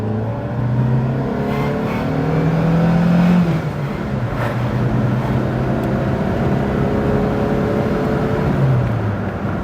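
A 1992 Fiat Tipo 1.4S pulls hard through the gears on a road near a quarry, its engine note rising in repeated sweeps that break off at each shift, heard close from inside the car.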